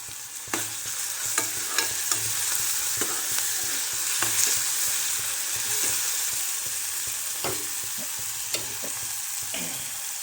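Onion and fresh coriander frying in hot oil for a yellow pea usal, a continuous crackling sizzle with repeated sharp stirring clicks and scrapes of a spoon against the pan throughout.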